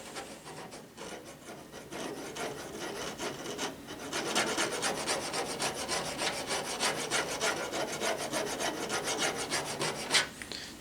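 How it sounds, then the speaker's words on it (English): Plastic spudger scraping adhesive residue off a Dell Precision T3500 PC case, a close, continuous raspy rubbing with fast repeated strokes that grows slightly louder partway through. "I use a plastic spudger to try and scrape away"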